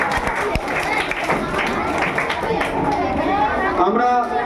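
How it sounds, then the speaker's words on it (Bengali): Loud, steady applause from a magic show audience at a Khardah Municipality event in North 24 Parganas, with clapping and crowd noise running the whole time. Voices are mixed into the clapping. "এটা জোরে হাততালি হয়ে যাক।"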